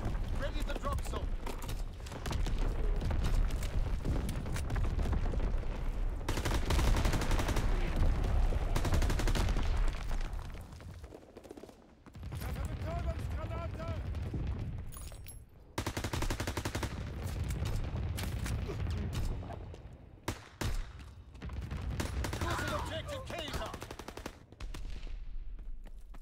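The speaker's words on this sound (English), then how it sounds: "Flak bursts commenced." Anti-aircraft flak guns firing in a World War II shooter, Call of Duty WWII, on the V2 map: sustained bursts of rapid gunfire and booms in long dense stretches, broken by brief lulls, with game radio chatter layered over them.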